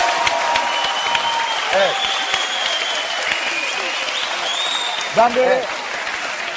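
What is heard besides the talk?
audience applause on a TV talk show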